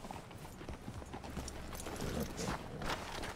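Horse hooves clip-clop in the video game Red Dead Redemption 2, a steady walking rhythm of close, clear hoofbeats over a low outdoor ambience, with faint voices in the background.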